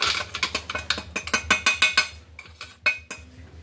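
Spoon stirring freshly ground spice paste into about two spoonfuls of curd in a bowl, a rapid run of bright clinks against the bowl, close and steady, then slowing to a few scattered taps.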